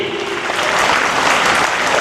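An audience claps together in a hall, producing dense and loud applause that keeps going steadily through the short moment.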